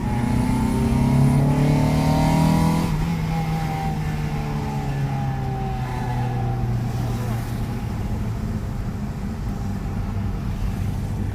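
A Honda Accord Euro R CL7 with a manual gearbox runs loud and close, its engine revving up then dropping as the pitch falls steadily, with someone speaking briefly over it.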